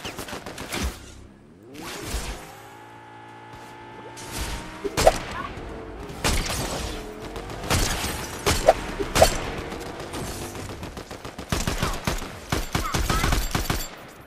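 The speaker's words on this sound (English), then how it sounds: "Oh, getting shot from behind." Gunfire crackles in the video game Fortnite, rapid bursts and single shots mixed with in-game effects and players talking over the action.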